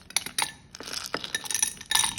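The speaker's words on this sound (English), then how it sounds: "And to this, I will be adding lot of ice cubes." Ice cubes clinking and tumbling into a glass for a pineapple mojito mocktail, a run of bright close clinks in quick bursts, loudest at the start and end, with no talk.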